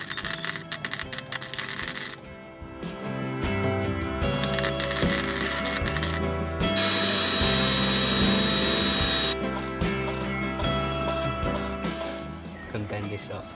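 A power drill bores through the sheet-steel sill skin of a Ford Transit van, held with clamps to prepare a spot weld, whining steadily at close range amid clattering workshop handling noise.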